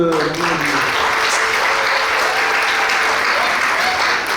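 A crowd applauds at a civil wedding ceremony, a thick sustained roar of clapping from many guests, loud and even throughout, with a voice speaking over it briefly at the start.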